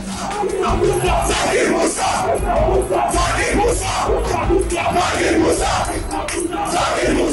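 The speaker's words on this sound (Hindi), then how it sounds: "जिस समय हैवानों की भीड़ ने डीएसपी अयूब को घेरा, वहां हिजबुल से अलग हुए आतंकी मूसा के नारे भी लग रहे थे।" A mob of over 200 people outside a Srinagar mosque shouts and chants slogans, a loud, dense and unbroken wall of raised voices and yells that runs without pause.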